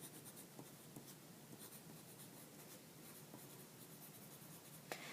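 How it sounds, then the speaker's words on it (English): A pencil writes a name on a sheet of paper, with soft close scratching strokes in short bursts, very quiet, and no voices. "I need to write my name"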